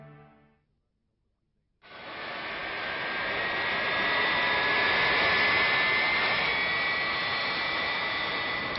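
A jet airliner's engine roars up after a short quiet gap, a broad, loud, steady whoosh with a faint whining tone that swells and holds close by.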